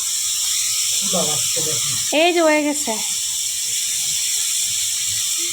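Chopped carrots sizzle in a frying pan with a steady, close hiss of hot oil running throughout, while someone speaks briefly over it.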